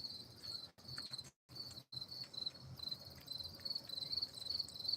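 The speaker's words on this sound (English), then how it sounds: "crickets isn't silence. In fact, it's really loud." A dense, steady chorus of crickets chirping loudly and continuously, with two brief dropouts near the start, and no voices.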